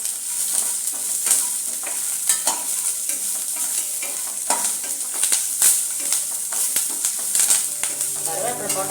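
Curry leaves drop into hot oil in a pan for a cauliflower dish and sizzle steadily, with scraping stirs and crackling spatters throughout.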